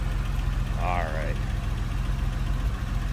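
A 1999 Porsche 911 Carrera coupe with its 3.4 liter, 300 horsepower engine idles in a steady, even low rumble, with a brief high chirp partway through and no talking.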